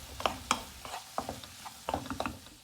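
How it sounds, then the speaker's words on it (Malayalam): Onion, ginger and garlic sautéed in a pan with turmeric, stirred with a spoon that clacks and scrapes against the metal in irregular bursts over a faint sizzle. "ആവശ്യത്തിന് മഞ്ഞളും കൂടെ ഇട്ട് ഒന്നും കൂടെ ഒന്ന് വെയിറ്റ് ചെയ്ത് നന്നായിട്ട് വഴറ്റിയെടുക്കുകയാണ്."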